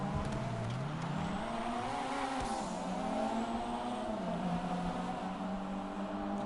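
Toyota Supra (Jester Classic) in GTA 5, turbo and exhaust fitted, revving and accelerating through gears, engine pitch rising and dropping in sweeps with a brief tire squeal, loud and close with no talk.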